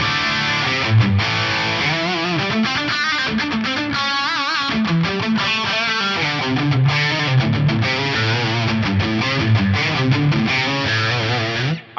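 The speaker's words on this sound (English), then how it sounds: "The Brit 800 2203 high, a little bit of multi-delay reverb and pitch detune on there" Electric guitar run through a Brit 800 2203 high-gain amp model with multi-delay, reverb and pitch detune, played as a dense, loud, continuously distorted riff with a shimmering doubled tone, no talking.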